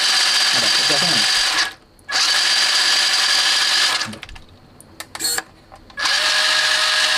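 The electric motor of a WPL B36 RC truck with a two-speed upgrade whines at high speed gear, loud and close, cutting off briefly twice and revving up again.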